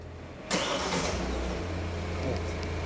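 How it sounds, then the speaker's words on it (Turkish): A Kia Sportage engine cranks and catches abruptly, then settles into a steady idle, heard close by and fairly loud. "Çalıştırın arabayı."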